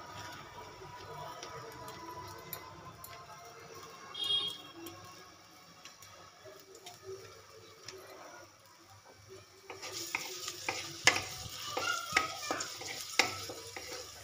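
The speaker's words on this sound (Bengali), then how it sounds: "পেঁয়াজটা হালকা একটু ফ্রাই করে নেব" Chopped onions frying in hot oil with black cumin seeds, a low sizzle that grows louder and busier partway through, with sharp ticks and spatters from the pan.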